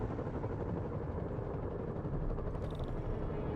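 Helicopter in Marvel's Spider-Man, a continuous low rotor drone with a rapid thudding pulse, steady and fairly close, with no talk over it.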